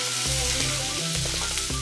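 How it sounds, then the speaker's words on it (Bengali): Finely chopped onions hitting hot oil in a pan where chicken is already frying for a Parsi-style dish, a steady loud sizzle with a few stirring scrapes throughout. "আচ্ছা এটা হালকা ভাজা হতে হতেই আমি দিয়ে দিলাম পেঁয়াজ"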